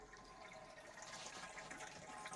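Gravity-fed water for a camp runs steadily from a barrel, a continuous close hiss and trickle of flowing water with no voices.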